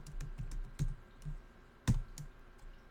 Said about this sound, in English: I'm just going to type in the word pants